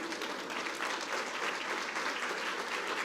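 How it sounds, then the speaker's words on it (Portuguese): A church congregation breaks into applause, a dense steady wash of many hands clapping at moderate distance, continuous for a few seconds without talking. "Aplauda Jesus."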